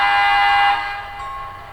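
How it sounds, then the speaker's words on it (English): A model locomotive horn from a SoundTraxx Blunami sound decoder sounds a bright sustained chord, loud at first, then fading and thinning as it trails off. "Choose from a vast library of authentic sounds to match your favorite locomotives."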